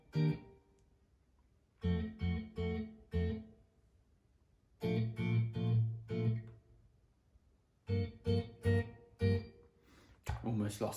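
Acoustic guitar plucking the chord pattern of a song in a relaxed groove, heard as four short bursts of picked chords separated by brief pauses, close and clear with no talking.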